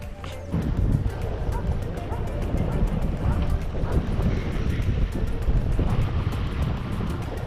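Heavy wind buffets a GoPro microphone in a constant low roar at Hervey Bay, Australia, with waves or water washing faintly beneath and a voice speaking through it.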